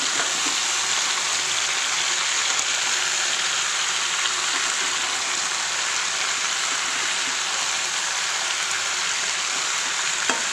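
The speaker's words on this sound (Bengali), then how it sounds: "সবজিগুলো এভাবে নাড়াচাড়া করব" Vegetables with sweet potato fry in a pan during a vegetarian sabzi cook, giving a steady, close hiss of sizzling with faint stirring scrapes throughout and no voices.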